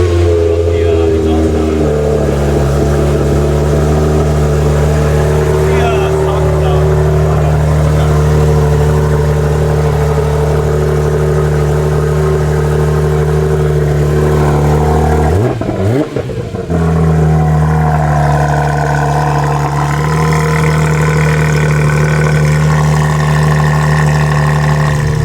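Porsche 911 engine idling and revving, a loud rumbling tone that rises and falls in pitch through gear changes, with a sharp burst of acceleration partway through as the car drives off.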